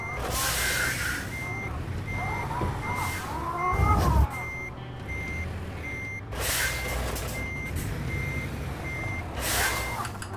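A truck in American Truck Simulator beeps steadily while reversing to park, its regular alarm tones running over a continuous engine rumble, with a brief hiss near the four-second mark and no talk.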